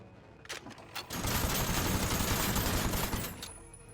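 Gunfire in the turn-based game Aether & Iron, a few sharp separate shots followed by a dense continuous burst of automatic fire lasting about two seconds, close and loud, then tapering off.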